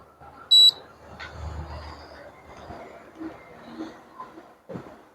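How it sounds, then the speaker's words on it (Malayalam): A Prestige induction cooker's buzzer gives one short, sharp, high electronic beep near the start, loud against faint room noise and soft handling sounds that follow. "നമുക്ക് ഈ ബസർ മാത്രമേ ഉള്ളൂ. കണ്ടിന്യൂസ് ബസറാണ്."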